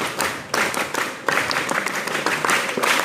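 A seated audience claps in unison about fourteen times during a clapping game at an Islamic Ramadan lecture, with crisp, evenly spaced bursts of hand claps filling the room.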